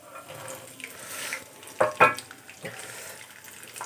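Peas tipped into hot oil for alu batani curry, with a soft sizzle and a quick cluster of rattling, crackling bursts as they hit the pan, followed by quieter frying.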